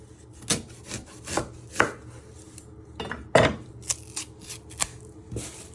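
Knife cutting an onion on a board, a series of crisp irregular chops and taps, close and clear, with no voice.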